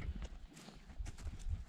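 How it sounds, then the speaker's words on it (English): Horse hooves clopping on the ground in Kyrgyzstan while herding livestock, a close, steady walking rhythm of thuds for under two seconds, with no talk over them. "You just walk with your horse behind them and they move forward."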